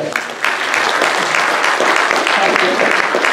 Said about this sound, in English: Maybe you should clap first.